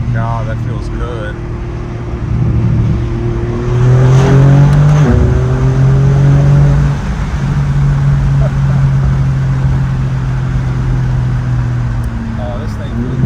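A BMW M4 G82 drives with a deep, droning exhaust note that swells under acceleration and then holds steady, heard from inside the car while people talk over it.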